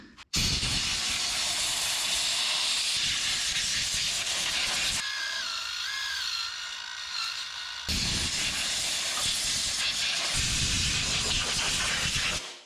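Compressed air from a shop hose blowing off a vent fan, loud and continuous hissing in long bursts, broken by a short pause in which a whirring, spinning whine is heard before the blast resumes.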